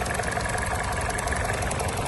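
A car engine idles steadily, a constant low mechanical rumble close by with no talking over it.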